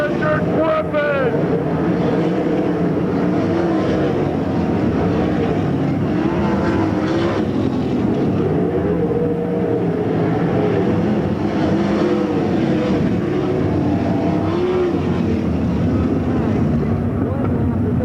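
Non-wing SCRA sprint cars race at Lincoln Speedway, engines droning and whining in overlapping passes at mid distance, with a loud announcer talking over the steady roar.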